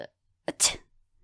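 A single sharp sneeze with a quick breathy intake just before it, close and fairly loud, then quiet.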